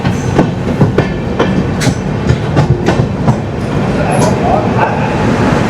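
Konark Express 11019 rolls along at speed, with a loud, steady rumble and repeated sharp clickety-clack wheel beats heard from inside a carriage.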